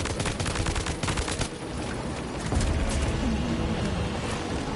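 Sustained automatic gunfire crackles in the Death Stranding 2 video game, loud rapid bursts up front easing into a denser rumbling barrage.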